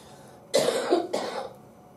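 A person coughs twice in quick succession, close and fairly loud, in a quiet meeting room with no talk.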